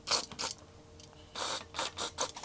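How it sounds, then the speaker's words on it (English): Contact cleaner sprayed into an arcade joystick during servicing, heard as several short hissing bursts at close range, spaced with brief pauses. "Just gonna spray a little contact cleaner here."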